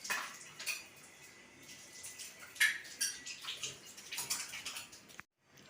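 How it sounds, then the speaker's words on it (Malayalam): Cooking oil is poured into a non-stick pan on a gas stove in a home kitchen, a faint soft trickle broken by light metallic clinks and scrapes, ending abruptly, with no one talking. "എണ്ണ ഒഴിക്കാം."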